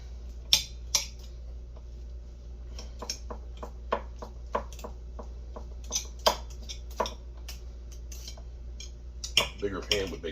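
Metal utensils clink and scrape against a pan while smoked jerk chicken is pulled apart, giving sharp irregular taps over a low steady hum, with a busier clatter near the end.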